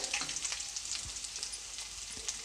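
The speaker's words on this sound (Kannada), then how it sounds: "ಈಗ ಇದು ಹಸಿ ಸ್ಮೆಲ್ಲೆಲ್ಲ ಹೋಗಿ ಚೆನ್ನಾಗಿ ಫ್ರೈ ಆಗಿದೆ" Chopped ginger and garlic fry in a pan, a close, soft, steady sizzle with a few light stirring ticks, and no talking.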